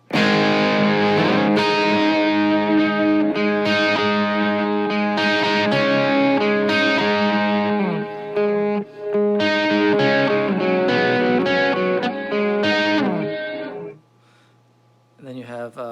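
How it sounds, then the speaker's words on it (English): Guitar chords fed through the reverse reverb mode of an Electro-Harmonix Cathedral pedal swell up backwards into each note, a loud, repeating rising wash that cuts off abruptly near the end. "It's just kind of a weird reverse sound."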